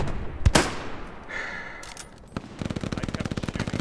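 Gunfire in the World War II shooter Hell Let Loose: a couple of sharp shots early, a quiet stretch, then a rapid, steady burst of automatic fire closing out the clip.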